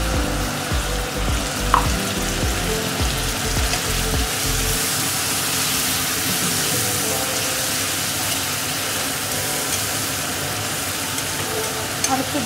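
Water poured into a Katla fish curry frying in a hot pan sets off a loud, steady sizzle and bubbling that fills the whole stretch, with some low stirring or knocking early on.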